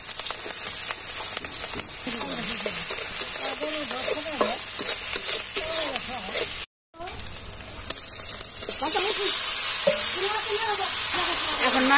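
Chopped onion fries alongside fried potatoes in a village kitchen, a loud, steady sizzle with stirring scrapes, while someone talks over it and the sound cuts out briefly midway.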